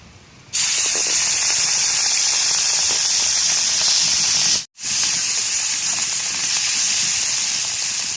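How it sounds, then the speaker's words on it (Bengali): Loud, steady hissing sizzle as prawns hit hot oil, continuous with one brief cut-out midway, close and filling the whole clip. "আবার তেল দিয়ে চিংড়ি মাছটা ভেজে নেব"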